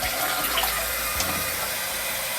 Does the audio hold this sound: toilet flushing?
yes